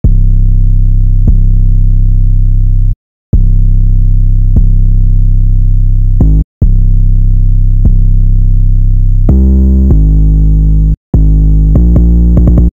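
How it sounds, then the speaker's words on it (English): Loud, sustained 808 bass drum notes from the beat of a track, remade in Serum, each deep boomy hit ringing out long, with short gaps between phrases and faster, pitch-shifting hits near the end. "Here's the 808."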